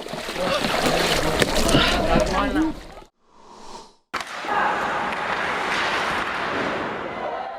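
Orthodox Christians bathe in icy water at Kazan's Lake Kaban during a hard frost for the Epiphany feast, splashing and sloshing continuously with crowd noise, broken by a short near-silent gap.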